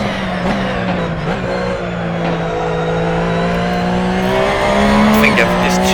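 A Porsche race car in Assetto Corsa brakes hard with a sustained tire squeal over a steady engine drone, loud and close, the pitch sliding slightly and swelling near the end.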